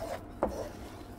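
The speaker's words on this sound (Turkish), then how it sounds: "Tahta kaşıkla kavurmaya devam ediyorum." A wooden spoon scrapes once through flour halva toasting in a pot on the stove, a short, close rasp against the pan amid a soft, quiet background rustle.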